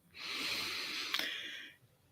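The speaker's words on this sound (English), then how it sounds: "Breathing in" A single long, hissing inhale drawn through the nose during a guided morning meditation, close and soft, lasting about a second and a half with no talk.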